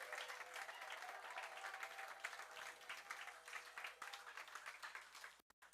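A church congregation clapping and cheering in praise of Jesus during a sermon, sustained loud applause that thins near the end, with voices mixed into the crowd noise.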